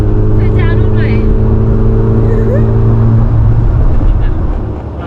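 A classic Mini Cooper accelerates hard on a Peak District road, heard from inside as a loud, close, continuous engine drone that climbs slightly in pitch, with brief voices over it.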